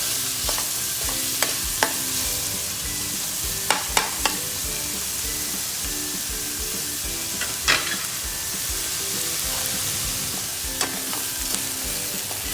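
Chopped onion fries in a pan toward golden brown, with a continuous hiss of hot oil broken by scattered clinks and scrapes of a spoon over about twelve seconds and no talking.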